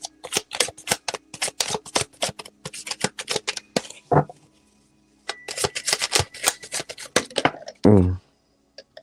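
Tarot cards shuffled by hand in two close bursts of rapid riffling flicks with a short quiet gap between them, ending in a brief rustling slide as cards are pulled, with no talk.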